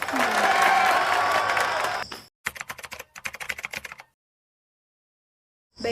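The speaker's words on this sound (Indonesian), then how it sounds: "Beri tepuk tangan." Applause in a simulated classroom teaching session starts as a thick, even wash of clapping under a voice, then breaks into scattered, sharper claps that trail off into silence.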